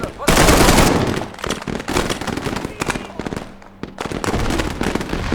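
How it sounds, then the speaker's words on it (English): Machine gun fire in a war video game, loud sustained bursts and rapid volleys running nearly throughout, with brief lulls, from a soldier firing at muzzle flashes as an enemy BMP advances. "I'm just shooting at muzzle flashes"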